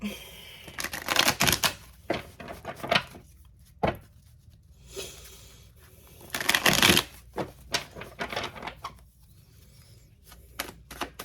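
Tarot cards are shuffled in repeated quick riffling bursts with pauses between, close and fairly quiet, with no talking.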